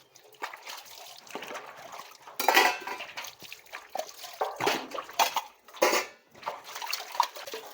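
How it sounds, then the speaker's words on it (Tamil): Dishes and pots clatter and scrape while piped water splashes and runs in irregular bursts at an outdoor tap rather than a sink, close by and fairly busy throughout. "எப்பயுமே இங்கே தான் விளக்கி கழுவுவோம்"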